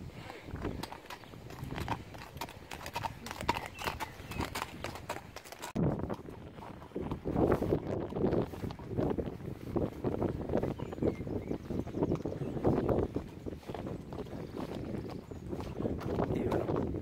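Horses' hooves clip-clop steadily on the ground during a horseback ride through vineyards, close and continuous, with light wind noise on the microphone.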